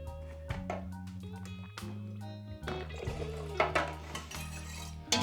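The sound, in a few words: spoon stirring into pho broth in a pot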